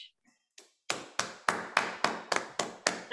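Steady, evenly spaced hand claps follow a song at a Dussehra music gathering. About nine crisp, close claps build to a regular beat, with no voices over them.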